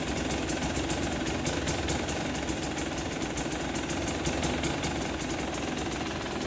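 A 2020 KTM 300 XC TPI two-stroke dirt bike engine idles steadily and close by, a continuous throbbing run with no talking over it.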